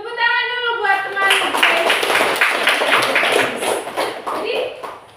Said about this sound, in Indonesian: Ya, tepuk tangan dulu buat teman.